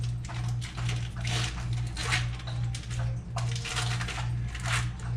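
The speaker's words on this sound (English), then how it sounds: "I don't know if you can hear my dog drinking water in the background" A dog laps water from a bowl in repeated wet bursts of rhythmic tongue splashes, heard over a steady low background hum indoors.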